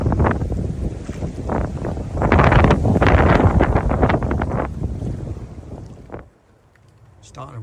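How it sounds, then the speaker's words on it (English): Strong gusting wind at a coastal spot buffets the microphone in loud, rough surges for several seconds, then drops off sharply into near quiet. "Really starting to blow in now, gusts of 60 mile an hour soon."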